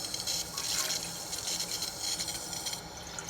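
Tap water gushes steadily into a pan for a few seconds, a splashing, hissing fill with no voices over it.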